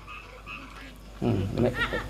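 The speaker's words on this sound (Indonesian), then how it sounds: "Kodok pun wis mulai kerpak-kerupuk." Frogs croak outdoors during a religious lecture, starting faintly and then breaking into a burst of loud, close, rhythmic croaks in the second half.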